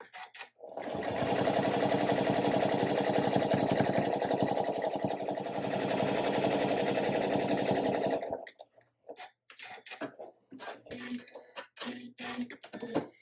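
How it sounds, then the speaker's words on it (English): Sewing machine with a walking foot stitching stretched elastic, running continuously and loudly for about seven seconds close by, then stopping into scattered clicks and handling noises. "when you sew elastic like this, you want to stretch it."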